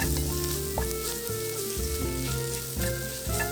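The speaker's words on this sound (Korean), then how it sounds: "약한 불에서 살짝 볶아주세요." Eggplant with perilla oil, perilla powder and chopped green onion sizzles in a pan over low heat. The frying is loud and steady and runs the whole time, with stirring scrapes mixed in and no voices.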